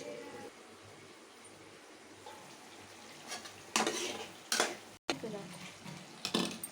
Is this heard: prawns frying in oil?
yes